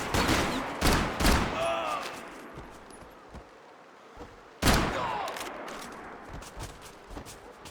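Gunfire bursts in the Max Payne 3 video game, with loud sharp volleys early on, a quieter stretch, then another heavy burst of shots and trailing reports. Voices shout briefly between the shots.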